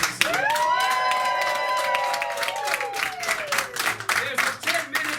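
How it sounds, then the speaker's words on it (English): An audience claps and cheers for a guest at a live comedy variety show, a loud burst of applause while a bright wavering tone glides and falls through the first seconds, then clapping continues raggedly. "Please give a special round of applause for our guest"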